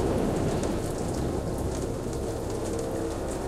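A storm in the Jurassic Park video game brings a steady downpour of rain with a deep, continuous thunder rumble underneath, loud and unbroken.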